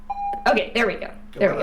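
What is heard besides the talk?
doorbell ringing in a video game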